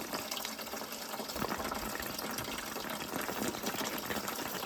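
Water runs out of a plumbing valve during a reducing valve replacement, a continuous hissing gush that stays steady and fairly close throughout.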